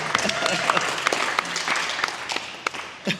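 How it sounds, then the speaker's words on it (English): An audience at a voice-actor Q&A at the Oxford Card Show gives a round of applause: dense, moderately quiet clapping that thins toward the end, with a few sharper individual claps standing out. "Round of applause, please, for both."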